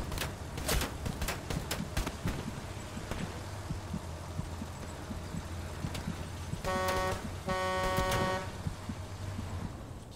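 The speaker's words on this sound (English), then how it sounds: "that was the third time that I was honking the horn and nobody even moved" Vehicle horn honking in the WWII military game Hell Let Loose, two sustained blasts in quick succession near the end, over busy battlefield background noise with scattered sharp impacts.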